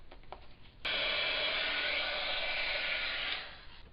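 A craft heat tool blows over embossed pieces with a steady, close airy whir that starts suddenly, holds for about two and a half seconds and then tapers off.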